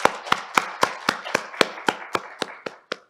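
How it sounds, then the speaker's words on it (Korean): Claps greeting a presenter at a data journalism conference, about a dozen sharp, evenly spaced hand claps, close and distinct, slowing slightly and fading toward the end. "큰 박수로 모시겠습니다."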